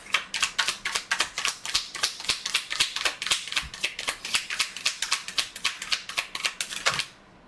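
A tarot deck riffled in one long shuffle, with rapid, evenly spaced crisp card flicks close up that run for about seven seconds and then stop abruptly.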